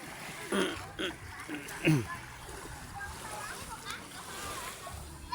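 A few splashes of water as a person plunges into the sea at a seaside resort, against steady outdoor background noise, with voices nearby.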